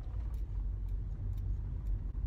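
A car on a road rolls past with a steady, moderately loud engine and tyre rumble lasting throughout, with a few faint clicks on top and no talking.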